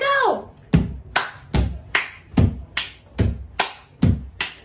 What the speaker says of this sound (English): If you can clap, please clap together along with the rhythm.